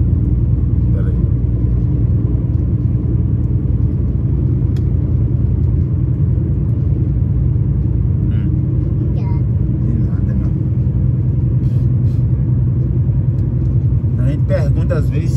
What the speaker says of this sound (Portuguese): Às vezes se dá pra descer e subir serra com o caminhão no modo automático.